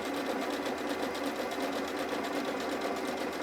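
A sewing machine stitches all the way round a pocket, a steady rapid rhythmic whirring hum with an even stitch pulse, running unbroken from start to finish with no talk over it.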